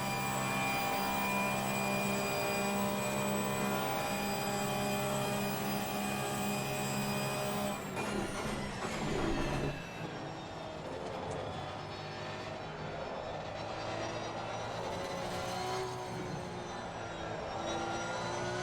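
A Porsche engine in a sim racing game drones steadily at high revs, then dips and climbs again as the throttle is rolled off and back on, loud and continuous with no talk.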